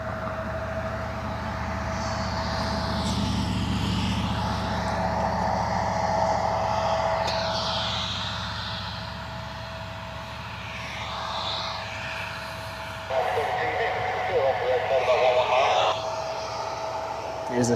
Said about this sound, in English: Trying to see if I see the C-130. Should be passing over the airport.